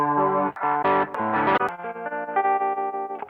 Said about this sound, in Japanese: 多分フェンダーのデラックスリバーブの変わるものかなと思います。